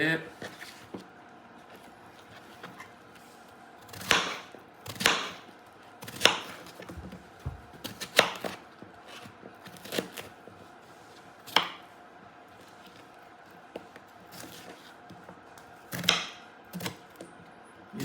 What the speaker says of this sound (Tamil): இந்த மாதிரி பொடி பொடியாக கட் பண்ணிட்டு